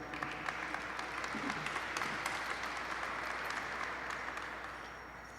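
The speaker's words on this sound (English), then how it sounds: "Assemblymember Ting, so I want to give him a round of applause there" An audience at a Native American Heritage Night celebration claps in sustained applause for an assemblymember, a dense steady patter that fades slightly toward the end.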